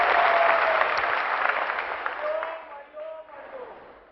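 Audience applause welcoming Suresh Chavan at a gathering, a dense, loud clapping that fills the hall and slowly thins out toward the end.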